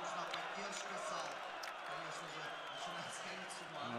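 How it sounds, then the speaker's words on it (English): Esports arena crowd at a StarSeries i-League Counter-Strike match between NaVi and ex-TSM, a steady roar of cheering and applause with scattered claps, broad and continuous throughout. "The crowd is absolutely loving it, and for good reason as well."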